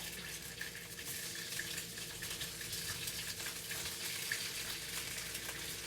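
Eggplant patties fry in oil in a pan with a soft, even sizzle and a faint, steady hiss that continues throughout. No voices are heard.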